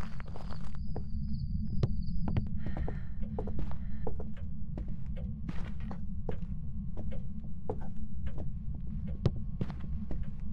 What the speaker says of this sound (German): Dieses Herzklopfen auch von den Level 3ern, ey. Das ist so ekelhaft, das Geräusch.